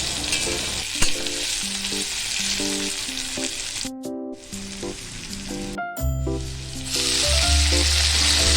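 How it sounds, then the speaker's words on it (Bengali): Pumpkin leaves frying in a pan with chopped onion and garlic, a steady loud sizzle running the whole time under a continuous background of music, growing a little louder toward the end. "পেঁয়াজ ও রসুনটা ভাজা ভাজা হলে ধুয়ে রাখা কুমড়ো পাতাগুলো দিয়ে দেবো"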